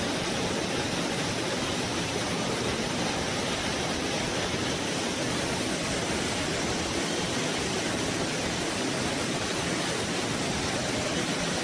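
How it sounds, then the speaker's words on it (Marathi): A monsoon waterfall at Shivthar Ghal crashes at speed onto rocks, making a loud, steady, unbroken roar from start to finish with no voices. "पाणी एवढ्या वेगात त्या दगडावर पडत आहे"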